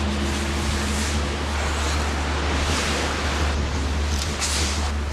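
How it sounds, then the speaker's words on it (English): Strong southeast trade winds sweep the sandy coast of Crab Island near the tip of Cape York Peninsula, a loud constant roar of wind and surf with gusty swells and heavy rumble on the microphone, no voices. "Strong southeast trade winds near the tip of Cape York Peninsula pummel Crab Island for most of the year."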